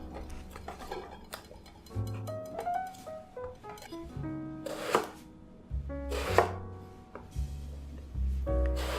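Chinese eggplants being cut on a cutting board, with several irregular knife chops and soft knocks spread across the stretch against faint background music.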